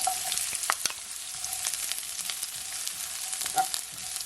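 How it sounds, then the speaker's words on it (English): Onions fry in a hot pan for soul-food smothered chicken, giving a steady, close sizzle with scattered pops and a few crisp clicks of stirring. "Now I'm gonna add my onions."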